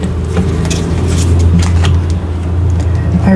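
Steady city traffic with cars and buses rumbling nearby, a continuous low drone with passing vehicle swells and no talk.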